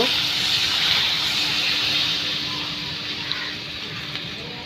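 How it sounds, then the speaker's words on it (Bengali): Broth poured into a simmering pointed gourd and potato fish curry, a steady watery gush and hiss running the whole time at moderate level, with no talking. "তরকারিতে তো ঝুল দিয়ে দিচ্ছি"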